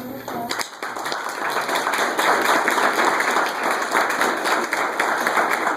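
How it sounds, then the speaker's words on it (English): Audience applause at an art show, steady dense clapping from a room of people that holds at an even level for several seconds, fairly close and with no voices over it. "everyone give her a round of applause"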